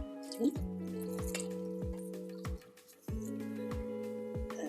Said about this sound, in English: So we can add our water.